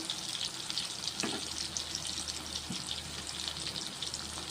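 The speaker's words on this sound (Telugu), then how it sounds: "ఇలా నూనెలో వేసుకోవటం వలన సిమ్లో పెట్టుకుని వేయించుకోండి ఫ్రెండ్స్" Eggplant pieces fry in oil on a low flame, giving a continuous close sizzle with occasional faint stirring clicks and no talking.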